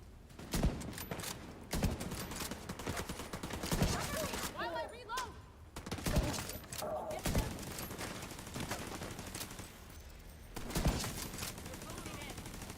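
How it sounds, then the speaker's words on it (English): Gunfire in a video game, several loud separate shots and short bursts spaced across the stretch, with game noise between them and someone talking over parts of it. "That was a headshot? Really?"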